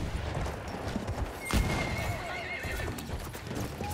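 A horse in Battlefield 1 whinnies loudly midway over a rumbling battlefield bed, with clip-clop hoofbeats and distant gunfire around it.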